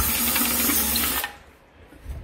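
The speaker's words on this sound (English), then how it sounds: "I'm just using a stepper bit to drill this." A stepped drill bit bores through material during a build of an L-band helix antenna, a loud steady whir that cuts off abruptly partway through, leaving quiet room tone.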